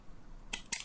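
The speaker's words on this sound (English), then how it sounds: "scissors are cutting it much better" Two sharp snips of scissors cutting through a bicycle battery's casing, close and crisp, spaced about a fifth of a second apart, over quiet room tone.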